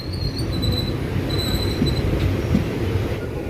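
Parasuram Express train running near the Bharathapuzha river, a steady rumble of rolling wheels with faint high squeals, heard from on board.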